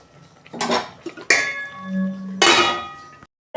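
A metal pan lid clanks and clatters as it is set over okra cooking on a gas stove and later lifted off, giving a few sharp, close knocks with a faint sizzle between them.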